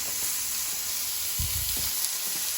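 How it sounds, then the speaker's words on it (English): Ground beef drops into a hot skillet and starts to brown, a steady bright sizzle running throughout with a louder burst of crackling as the meat lands partway through. "pop the beef in there and get that browning"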